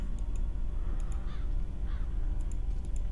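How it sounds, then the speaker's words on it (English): Crows caw twice in Diablo III, harsh, hoarse calls in the middle distance over a low ambient drone, with faint clicking from a keyboard and mouse in the background. "Can't be Diablo games without crows."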